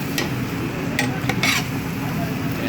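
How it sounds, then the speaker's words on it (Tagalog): Beef tenderloin sizzles steadily in olive oil with garlic while a utensil stirs and scrapes against the pan in a few sharp clinks, close and continuous. "Mixing lang natin siya hanggang maluto ang ating beef guys."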